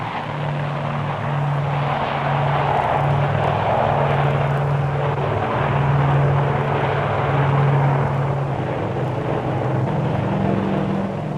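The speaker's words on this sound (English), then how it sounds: "Because of its short takeoff run, the tracker can also get airborne easily without using the catapult." A Tracker propeller aircraft takes off from the carrier HMCS Bonaventure, its engine drone steady and loud throughout with a low pulsing propeller hum, no voices.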